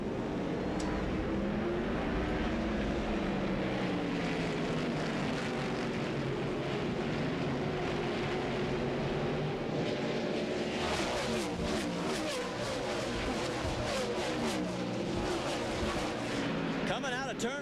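NASCAR Craftsman Truck Series race trucks roar away at the green flag at Memphis, a loud continuous engine drone with rising revs as the pack passes, under steady commentary.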